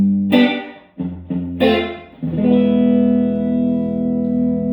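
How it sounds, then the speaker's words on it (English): A Fender Jazzmaster electric guitar through a slapback delay: a few sharp plucked chords, each followed by a quick short repeat, then a long sustained chord that rings out and slowly fades, played alone and fairly loud. "So typically my delay, I actually kind of set it almost slapback-esque."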